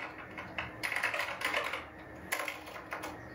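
Typing on a Compaq Deskpro XE 466 computer keyboard, quiet bursts of close key clicks in uneven clusters with pauses between them, no voices.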